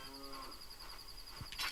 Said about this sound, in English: Ooh, there's a cow.